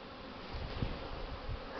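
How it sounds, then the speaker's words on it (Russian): Honeybees buzz steadily around a hive in November, a dense droning hum with individual insects swelling nearer and fading, no talking. "В этом вот улье активно облетываются пчелы."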